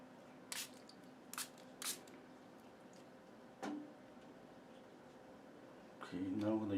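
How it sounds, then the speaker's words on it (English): A spray bottle mists a little water onto acrylic paint during a painting session, giving several short, soft, hissing bursts spaced apart, followed by a brief rustle at the end. "I'm gonna spray a little bit of water."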